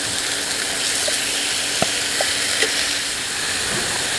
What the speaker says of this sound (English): So we have the cutlets cooking in the pan